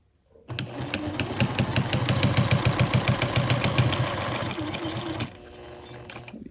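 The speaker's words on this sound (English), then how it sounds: "We're going to sew along that line, hopefully ending up in that corner right there." A sewing machine stitching quilt binding along a marked line runs in one steady close burst of rapid, even mechanical chatter for about five seconds, then stops.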